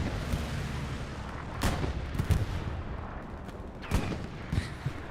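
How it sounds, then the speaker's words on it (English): Distant artillery fire in a video game battle, with several dull booms and sharp cracks at irregular intervals over a steady rumbling battlefield background. "Artillery coming in on artillery battery."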